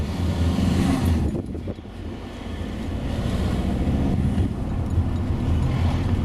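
A car coasts toward a junction with the clutch pressed and no engine braking. The cabin holds a steady, loud road and wind rumble, and a short dip in the drone suggests the change in engine load.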